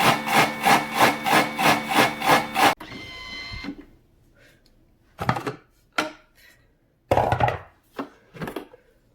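A Thermomix blending harira soup ingredients at speed 7 gives a loud pulsing whir with a regular throbbing beat for about three seconds, then stops, followed by scattered clatter and handling knocks.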